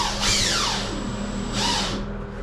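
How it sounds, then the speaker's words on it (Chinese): A power drill drives screws into calcium silicate board while patching a hole in a wall, two close whining bursts whose pitch swoops and winds down, loud over a steady hum. "这个螺丝呢，尽量呢埋的稍微有一点深度。"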